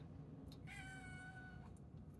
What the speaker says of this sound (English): if you hear her meowing, that's because she's sitting next to me